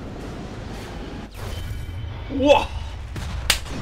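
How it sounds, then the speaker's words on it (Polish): A muffled in-game explosion in Sniper Elite V2 hits as a dull thud and rumble partway through, followed by a second sharp crack, while a man lets out a short exclamation over ambient battlefield noise. "Piękny wybuch! Ultra master wybuch!"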